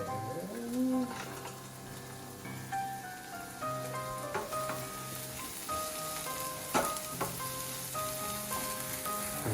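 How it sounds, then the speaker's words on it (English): Onion and garlic sauteing in a small frying pan for a Thai coconut curry crab, a steady close sizzle with occasional stirring scrapes and faint background tones. "we're just gonna saute the onion and garlic for a brief time"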